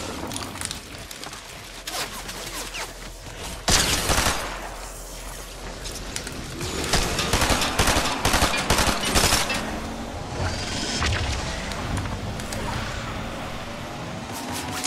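Gunfire in Fortnite during an FNCS tournament match, with sustained automatic bursts and scattered single shots over about fifteen seconds, loud and continuous, with a heavy burst near the start and constant rattling after it.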